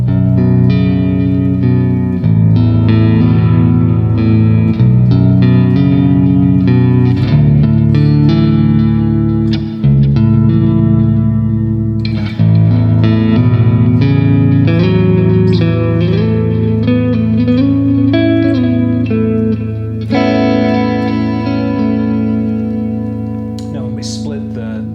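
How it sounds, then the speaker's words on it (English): Baritone electric guitar played through a Peavey XXX amp plugin rings out loud and continuous, with chords and single notes sustaining under reverb and effects for the whole stretch. "I think we'll get some really cool baritone type tones out of this"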